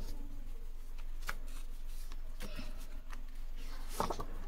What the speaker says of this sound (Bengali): ফার্স্ট আমি এখানে একটা কার্ড রাখলাম, এখানে একটা কার্ড রাখলাম